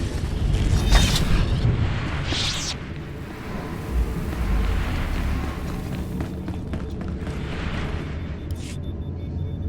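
Defensive cannons firing in the Star Wars: The Old Republic video game, deep booming blasts and rumbling thuds over a sustained sci-fi background, with a couple of sharper bursts.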